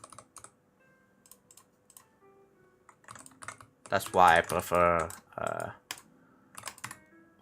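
Fast, steady typing on a full-size computer keyboard with a numpad, a stream of light clicking keystrokes that pauses briefly while someone speaks over it partway through.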